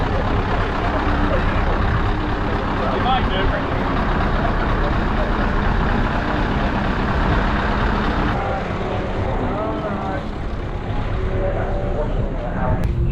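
A lorry manoeuvring to park in the paddock at Snetterton race track on a club enduro race day, a steady loud engine rumble throughout with faint reversing beeps and brief talk over it.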